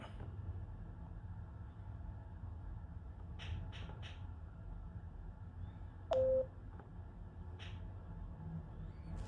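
A phone call placed through Skype sends a few short dialing tones, one brief clear beep standing out, all faint over a low background rumble.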